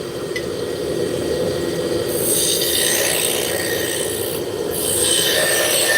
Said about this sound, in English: The way we're rubbing the wood chips on, that's called burnishing.